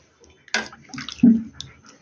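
Thickened milk, simmered with cardamom and bay leaf, is poured into pitha as it cooks, giving a short liquid pour and slosh with a few soft splashes, close and fairly quiet.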